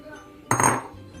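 Spoon clanking in a pot while stirring flour with thick coconut milk for Mie Celor Palembang: one short, close metallic clatter and scrape, then quiet.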